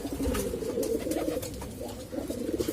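Several pigeons coo steadily and close by, their low throaty calls overlapping in a continuous, warbling murmur with no talking.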